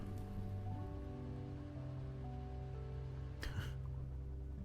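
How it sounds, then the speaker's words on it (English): Rain falls in the Minecraft modpack GregTech: New Horizons, a faint steady patter beneath low humming machine tones, with one brief louder rustle. "Rain."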